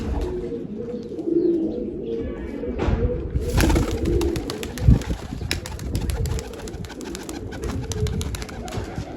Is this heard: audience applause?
no